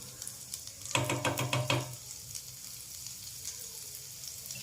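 Finely chopped garlic hits a pan of hot oil with bloomed cumin seeds, bursting into a sharp, crackling sizzle for about a second before settling into a faint, quiet fry.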